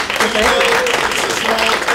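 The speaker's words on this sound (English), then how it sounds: "Can we give them a round of applause?" An audience applauds steadily and loudly, with voices mixed into the clapping throughout.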